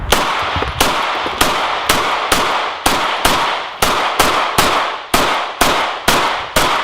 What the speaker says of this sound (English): I don't know why, just wanted to use my new gun